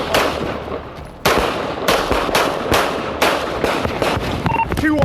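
Rapid bursts of gunfire from an officer during a police chase on Nebraska, a quick series of loud sharp shots in clusters, with a radio beep near the end.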